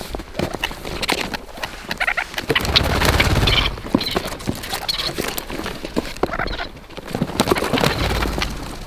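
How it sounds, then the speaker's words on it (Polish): Grey partridges tipped out of a cardboard box take flight outdoors, a rush of fluttering wingbeats and bird calls over steady wind and rustling. "przechylamy kartonik, one będą pomału same zrywać się do lotu"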